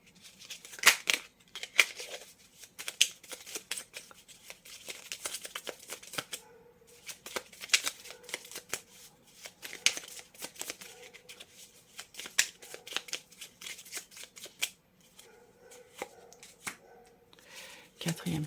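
Tarot cards being shuffled in the hands: quick papery riffles and slaps come in bursts throughout, close and crisp, with a voice speaking quietly in between.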